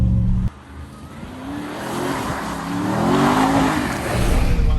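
A RAM TRX pickup truck accelerates hard up a winding canyon road, its big engine note swelling into a sustained, loud roar with rising pitch, steady and close throughout.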